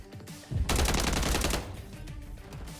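Dense burst of rapid automatic gunfire from several players in the video game Modern Warfare 3, loud, close, overlapping shots lasting about a second before trailing off into scattered sporadic reports.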